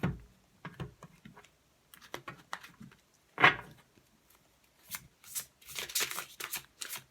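Oracle cards shuffled by hand at close range, soft irregular riffles and flicks with brief pauses between bursts, quiet and with no talking.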